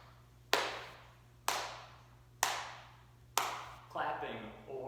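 Four sharp hand claps land at an even, steady beat about a second apart, each ringing briefly in a room; a voice begins speaking over a low electrical hum right after the last one.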